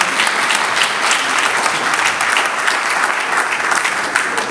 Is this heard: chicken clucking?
no